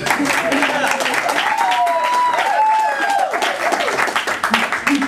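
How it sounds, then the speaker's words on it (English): Loud audience applause at a roast, brisk clapping with some cheering that rises and holds, while a voice talks over the crowd. "Can I have a little bit more applause, please?"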